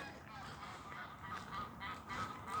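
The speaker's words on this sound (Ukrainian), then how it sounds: "Бачите, як гуси літають." Distant geese fly overhead in spring, honking faintly over a steady outdoor background hum, calls rising and falling intermittently.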